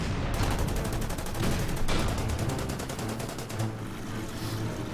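Gunfire directed at a T-34 tank in the wartime strategy game Order of Battle, a dense, continuous rattle of rapid shots with heavy rumbling underneath, loud throughout.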